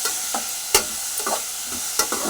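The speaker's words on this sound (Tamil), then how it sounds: "இது கொஞ்சம் நல்லா வதங்கட்டும்" Tomato rice masala being sautéed in a pan, close metal spoon scrapes and knocks against the pan, a few sharp hits among softer stirring strokes over a low sizzle, with no talking.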